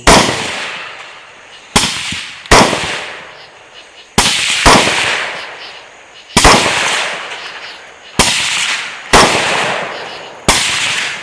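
A CMMG rifle chambered in 22 Nosler fires about nine sharp, loud gunshots outdoors in an irregular string, each crack followed by a short ringing decay.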